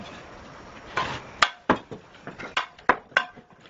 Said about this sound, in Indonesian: Jika batu bata harus dipotong, pria ini hanya menggunakan sendok semen untuk memotongnya.